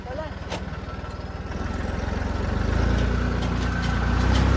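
A Massey Ferguson tractor pulls a loaded trolley, its diesel engine thumping rhythmically close by and growing louder and heavier as it works under load.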